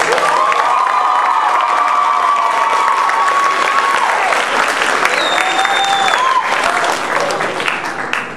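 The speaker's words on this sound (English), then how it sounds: "Give her another round of applause." An audience bursts into loud, sustained applause and cheering after a poem is read, many hands clapping densely with whoops and shouts over the top, tapering slightly at the end.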